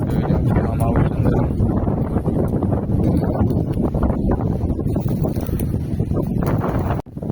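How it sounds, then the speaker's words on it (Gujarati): Strong wind roars continuously into the microphone near a thermal power station, a loud, steady buffeting rush with no breaks. "પછી પવન અહીંયા ફૂલ આવે છે"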